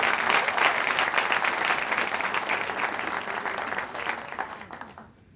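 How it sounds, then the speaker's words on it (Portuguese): A church congregation at a service in Martha's Vineyard breaks into sustained applause, a thick, even roar of clapping hands that fades away in the final half second. "Você pode aplaudir ao Senhor,"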